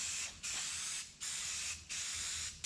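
Spray paint can spraying paint onto a shop sign: four close, loud hissing bursts in a row, each lasting well under a second, split by short quiet gaps.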